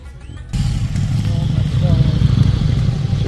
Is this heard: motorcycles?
yes